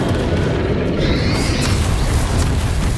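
A Bombarda spell blast in a Harry Potter video game, a loud, sustained rumbling boom with dense low-end roar filling the whole moment.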